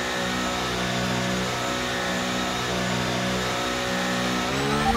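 McLaren MCL38 Formula 1 car in a racing game, accelerating out of the pit lane at a very wet Monaco Grand Prix, a loud steady high-revving engine whine rising in pitch near the end, no talk.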